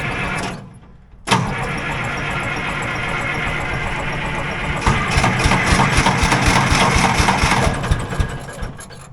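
Engine of a machine bought at a heavy-equipment auction cranks over after a brief quiet moment and catches, then settles into a loud, steady idle that roughens slightly midway and runs on alone.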